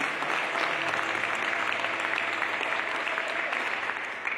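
A church congregation bursts into steady, sustained applause, a dense wash of clapping hands that fills the whole stretch without a break.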